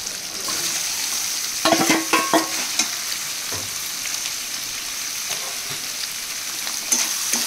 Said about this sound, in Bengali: এবার যখন এগুলো সব নরম হয়ে গেছে এবার আমি চিকেনটা দিয়ে দেবো।